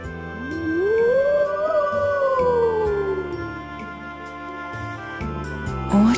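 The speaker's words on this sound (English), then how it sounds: "Howl in the distance." A long, rising and falling monster howl echoes from the distance in Tales of Symphonia: Dawn of the New World, sustained for several seconds over a soft game music bed.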